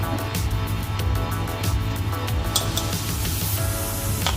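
Ground spices frying in a pan for paneer kofta curry, a steady close sizzle and spattering crackle with scattered sharp pops, continuous throughout.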